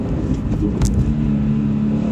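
A Subaru BRZ with a manual gearbox revs hard from inside the cabin, a loud, steady engine drone with a slightly tinny edge, with no talking.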